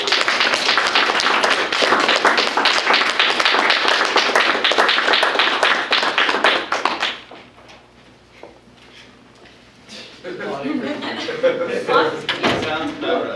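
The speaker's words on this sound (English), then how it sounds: "I think we should applaud these two for being in the top 10 nations" An audience at a college debate elimination round gives the two debaters a loud burst of clapping that lasts about seven seconds, then fades to quiet before people start talking.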